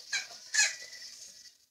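A pet parrot gives two quick, shrill squeaks close by, the second louder and trailing off into a brief fading tail.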